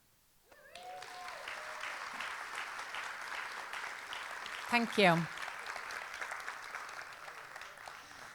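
Audience applause with clapping and whoops at a poetry reading in Tallaght, Dublin, a steady broadband patter running throughout under a brief spoken thanks and a short vocal cry midway.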